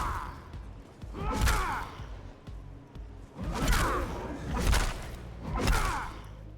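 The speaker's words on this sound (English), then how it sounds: "But if you use a maul, it's more of a thud." In Elder Scrolls Online, a heavy maul is swung repeatedly, each of about four breathy swooshes ending in a dull, heavy thud at a steady pace.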